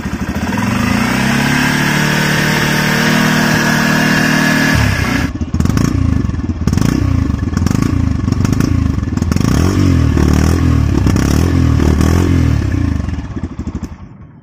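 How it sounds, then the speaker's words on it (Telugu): A Yamaha FZ-S version 3.0 motorcycle with a five-speed manual gearbox runs close by, its engine idling steadily, then revving in repeated blips with a throbbing exhaust beat and mechanical clatter, loud and without voices. "ఒకసారి మనం engine sound and exhauster beat విందాం."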